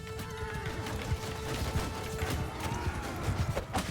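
Horses neigh and whinny amid battle in Mount & Blade II Bannerlord, mixed with hoofbeats, clanking and crashing, a dense, busy mix at moderate loudness.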